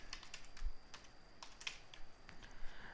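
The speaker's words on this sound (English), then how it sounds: "I'm just going to type in some test data" Light, quick keystrokes on a computer keyboard, a soft irregular patter of clicks close by in a quiet room.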